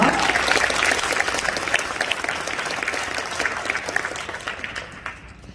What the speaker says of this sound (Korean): 박다은 학생, 박수로 맞아주세요.